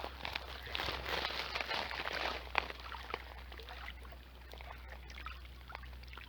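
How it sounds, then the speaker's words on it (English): Gentle water lapping at the shore of Lake Windermere, a soft continuous wash of small ripples with a few brighter splashes, close by and quiet, fading slightly toward the end with no talking. "It's just so nice listening to this water just lapping up."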